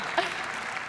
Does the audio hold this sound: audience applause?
yes